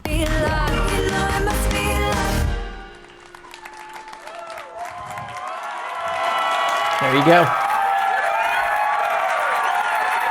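A crowd at the Surface Duo announcement event cheers and applauds loudly, swelling after a brief lull, with a presenter speaking over the noise and music playing at the start.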